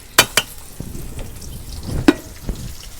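Garlic frying with pumpkin greens and shrimp in a pan, with sharp spatula clacks against the pot over a light sizzle, a couple of loud knocks at the start and scattered stirring scrapes after, close by.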